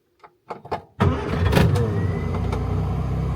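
A few faint clicks and clunks, then a restored Morris Minor's engine fires up on the choke and settles into a loud, steady rumbling idle close by.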